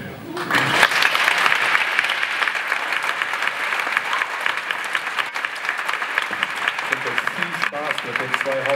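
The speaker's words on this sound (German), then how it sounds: "Ihr Applaus, meine Damen und Herren, für unser wundervolles Feature Dalmor!" A theatre-style audience breaks into steady, dense applause that starts abruptly and carries on at full strength, near and loud, with a few voices audible underneath.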